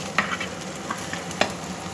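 Onions and green chillies frying in a pan: a steady close sizzle with a few light scrapes and taps of a stirring spoon against the pan.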